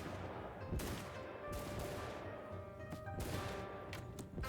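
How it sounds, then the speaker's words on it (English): Scattered volleys of troop gunfire in Shokuho, period battle shots cracking in irregular bursts, some close and sharp, others overlapping in a loose crackle. "Let them get some shots off."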